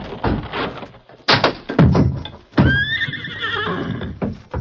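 In an old-time radio western, a horse whinnies in a long, loud, shrill call, broken by several heavy thuds of hooves striking a wooden door.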